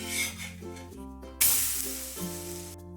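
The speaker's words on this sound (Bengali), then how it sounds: "একদম হালকা আছে এপিট ওপিট দুপিট ভেজে নেব।" A semolina and egg breakfast snack frying in a pan as it is cooked on both sides, giving a steady close sizzle that swells into a louder hiss partway through, with musical tones running underneath.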